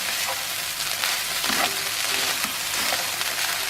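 Rice tossed and stirred in a hot pan for Sri Lankan Malay nasi thumis, a close, continuous frying sizzle with scraping stir strokes and no voices.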